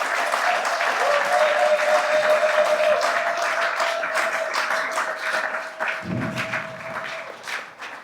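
Applause from an audience at a commemoration event at an embassy, a dense sustained burst of clapping lasting several seconds, fairly loud and close, slowly thinning toward the end with a low rumble near the finish.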